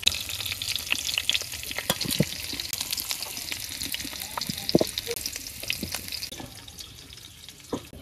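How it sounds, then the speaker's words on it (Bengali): Cauliflower and potatoes frying in oil in a village kitchen, a soft continuous sizzle with scattered faint pops and stirring clicks, fairly quiet and without talk. "ফুলকপি আর আলু এই তেলে ভাজতে নেই।"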